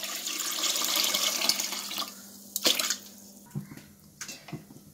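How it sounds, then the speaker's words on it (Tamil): Water is poured into a pot while making ginger and coriander coffee: a steady, splashy rush for about two seconds, then scattered softer splashes and clinks, fairly quiet and close. "தண்ணி ஊத்திக்கலாம்"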